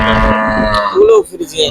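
A Friesian dairy cow at a cattle market lows loudly and close up in one long, drawn-out moo, followed by quieter shuffling and faint voices.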